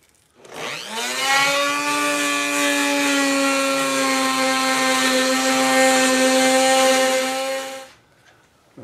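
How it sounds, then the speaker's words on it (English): A router spins up and cuts a channel in madrone wood for a guitar rosette, a loud, steady high-pitched whine holding for about seven seconds before spinning down. "I'm going to figure out how wide this is and route the channel around the Madrone that this will fit snugly into"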